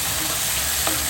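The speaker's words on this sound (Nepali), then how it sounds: "अब प्याज लाइट ब्राउन हुन थालेपछि त्यसमा हामी टमाटर पनि हाल्छौँ।" Onions, green chilies and tomatoes frying in a pan for chicken curry, a loud, steady, close sizzle that continues without a break.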